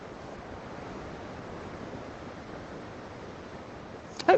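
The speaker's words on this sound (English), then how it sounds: "Hopefully you can hear the waves." Steady broadband surf on a shingle beach at Brighton, a continuous even wash of waves under light wind noise, with a brief louder rustle at the very end.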